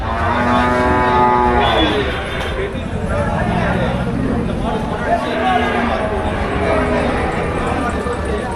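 Cattle at the Melapalayam cattle market low and moo amid a busy crowd, with steady market noise and people talking loudly over the animals throughout.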